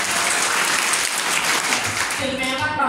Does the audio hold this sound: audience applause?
yes